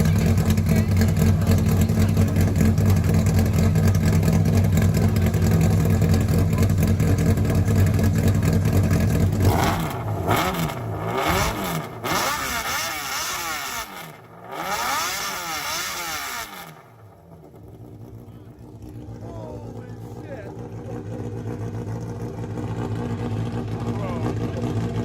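A car engine held at high revs, then dropping and surging again in a few rising and falling sweeps before settling to a steady idle-like drone, loud and close.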